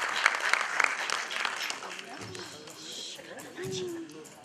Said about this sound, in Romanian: Rog să aplaudați intrarea în scenă